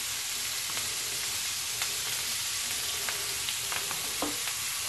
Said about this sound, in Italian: Mettiamo sulla griglia giusto il tempo di sciogliere il burro e non di bruciarlo